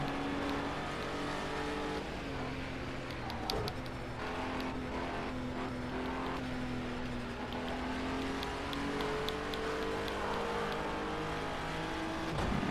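A race car engine drones steadily through a lap in a driving video game, its pitch rising and falling with throttle, with a few sharp clicks mid-lap and no talk.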